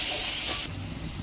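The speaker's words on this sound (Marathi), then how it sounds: "मोहरी तडकली, आता त्यात मी मसाला घालते आणि तो छान परतून घेऊ 1-2 मिनिट" Spice masala with mustard seeds sizzling in hot oil for satpudachi patodi, a loud close hiss that suddenly drops to a softer steady frying crackle.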